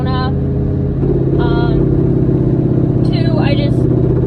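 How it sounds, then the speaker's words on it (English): Ford Mustang engine idling with a horrible exhaust leak, a loud steady low rumble with a throbbing, ragged tone, while someone talks over it. "a horrible exhaust leak"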